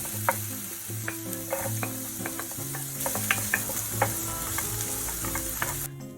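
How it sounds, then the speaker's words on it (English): Garlic, ginger and onions fry on medium heat for a honey garlic tofu sauce, giving a steady close sizzle punctuated by light spatula clicks and scrapes, with a soft tonal bed underneath. "Fry the garlic, ginger and onions on medium heat until fragrant"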